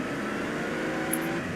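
A sports car engine in GTA San Andreas holds a steady, droning roar for a moment, with no talk over it.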